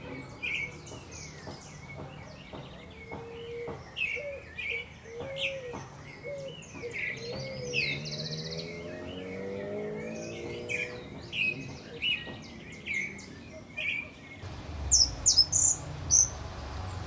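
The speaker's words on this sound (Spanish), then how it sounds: "los zorzales nos deleitan con sus dulces trinos" Thrushes sing continuously with varied, sweet whistled phrases and trills, fairly faint, over a soft background of other chirps.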